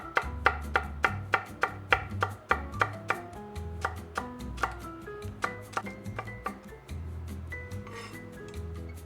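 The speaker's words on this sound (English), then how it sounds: "We'll do our celery right down the middle" A knife chops celery on a cutting board in a steady run of crisp, close thuds, quickening and then easing into a looser rhythm.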